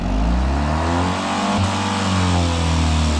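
A car driven by a robed monk revs hard without moving on a mountain route from Kibber to Chicham, a loud, close, sustained engine drone with a brief dip mid-rev.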